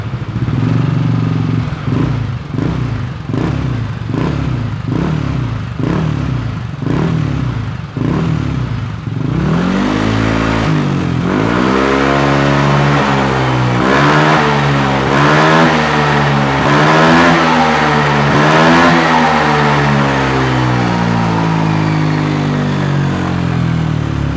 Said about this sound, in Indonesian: Jadi kayak gini suara idle-nya. Coba kita geber.